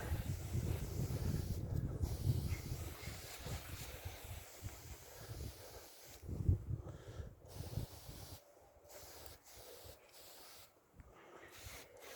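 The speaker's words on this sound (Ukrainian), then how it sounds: "Вітер дує, кошмар." Wind gusts buffet the microphone in a garden with peach trees, rough low rumbling and hiss rising and dropping in strength throughout with brief lulls.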